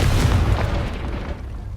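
A Confringo blasting spell goes off in Hogwarts Legacy as one loud, close explosion, a deep roaring boom that fades slowly over about two seconds.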